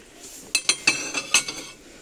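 Ceramic dishes, hollow plates and small bowls from a store tableware range clink and clatter as they are handled up close, a quick run of sharp knocks and rings with no talking.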